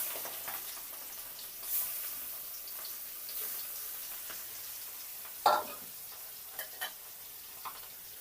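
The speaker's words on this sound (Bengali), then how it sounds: "বল মাছ তো অনেক ফুটে ঢেকে দিচ্ছি" Fish frying in a hot pan, a steady broadband sizzle with sputters and sharp pops, one louder crackle midway, close up and with no talking.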